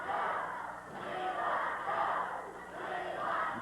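A Portland wrestling crowd roars in swelling waves during a Buddy Rose arm bar on Joe Lightfoot, loud and sustained with rising and falling surges of cheering and shouts.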